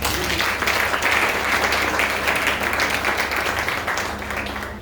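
Church congregation applauding during a sermon, a sustained dense wash of clapping from many hands that holds steady and then tapers off slightly at the end.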